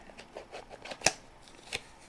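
BOTA tarot cards being shuffled by hand: a run of soft papery riffles and taps, with one sharper snap near the middle and another toward the end, close and fairly quiet with no talking.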